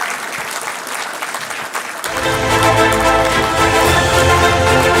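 Loud, sustained audience applause at the 19th FICCI Higher Education Summit 2024 breaks out about two seconds in, as Amity University, Uttar Pradesh is named winner of an award category; before that there is only low hall murmur.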